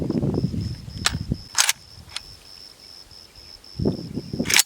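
Cartridges being pressed into an AK-47 magazine: a few sharp metallic clicks and snaps spaced irregularly, with soft handling rustle between them and no speech.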